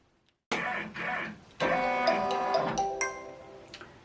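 A Brother PR1055X embroidery machine starts up and stitches a mug rug, producing a loud mechanical whir with tonal motor hums and quick ticking bursts, heard alone nearby.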